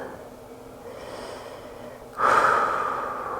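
Breathing during a yoga flow, a soft airy breath that runs for about two seconds and is followed by a louder, fuller exhale that gradually fades, close and alone.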